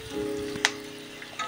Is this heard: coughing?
no